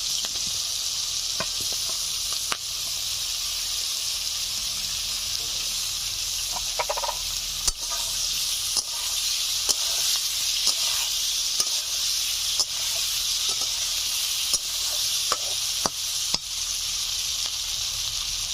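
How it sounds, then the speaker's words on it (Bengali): Boiled potatoes sizzle in hot oil in a pan for a Bengali koi fish curry, a steady close frying hiss punctuated by occasional clicks and scrapes from stirring. "সেদ্ধ করে রাখা আলু দিয়ে দিচ্ছি"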